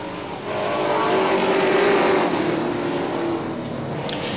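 NASCAR trucks racing on the Charlotte oval, a loud sustained roar of several engines passing close together and holding steady for several seconds before easing slightly.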